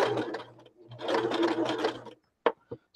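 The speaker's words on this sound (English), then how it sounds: "And then just keep on sewing." A sewing machine stitches fabric for boho bags in two steady whirring runs, the second longer, followed by a couple of close clicks and taps from the machine.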